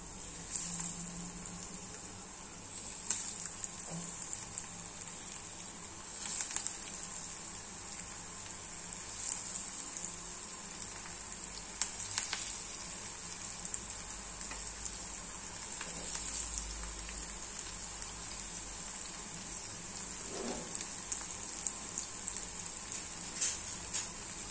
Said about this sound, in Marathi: तेल छान तापलेलं आहे आणि याच्यामध्ये आपण एक एक टिक्की आता